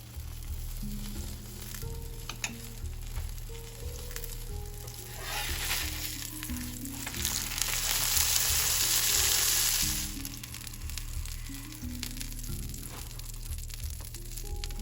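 Keema paratha frying in ghee on a hot tawa gives a steady close sizzle and crackle for the whole stretch. The sound swells louder around the middle and then settles back. No one speaks.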